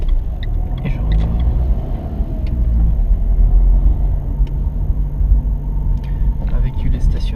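A driving-school car pulls away after stopping at a stop line on a road near Gex, France. A low engine rumble rises steadily from inside the cabin while a person talks over it.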